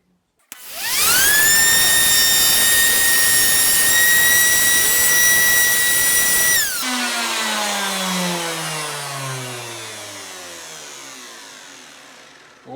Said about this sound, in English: Always let your router stop spinning before you move it.